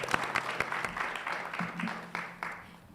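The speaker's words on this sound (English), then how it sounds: "Let's give our first 3 finalists another round of applause" An audience at a pitch competition applauding the finalists, steady clapping from many hands at a moderate distance, continuing throughout.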